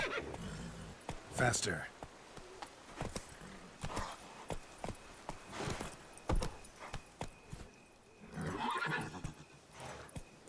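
In The Witcher 3's Blood and Wine, Roach the horse whinnies loudly several times between the clip-clop of galloping hooves, while someone speaks briefly over the commotion.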